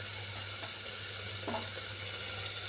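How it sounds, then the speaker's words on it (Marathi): Garam masala frying in a hot pan with oil while cooking veg paneer pulao, a steady soft sizzle running throughout with a faint stirring scrape, no voices. "तर गरम मसाला सुद्धा छान परतून घेऊया."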